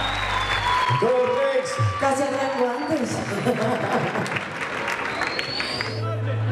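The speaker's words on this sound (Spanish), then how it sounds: "el aplauso para esta artista" An audience applauds a singer at a tropical music show, a steady wash of clapping and crowd noise running through the whole stretch beneath someone talking and music tones.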